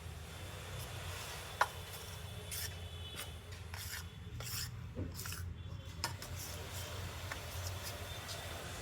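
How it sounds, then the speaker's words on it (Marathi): A spoon scrapes and stirs flour dough as hot oil is worked in for gulpoli, giving soft repeated rasping and rubbing with a few light metallic clinks, faint and close. "चमच्याने मी सारखं करून घेते"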